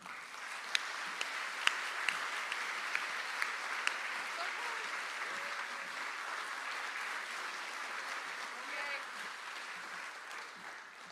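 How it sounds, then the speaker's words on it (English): Audience applause at a farewell gathering, a steady wash of many clapping hands heard from some distance, with a few louder individual claps popping out early on. "I want you to please give a big round of applause to one of my best friends, Jen Robertson."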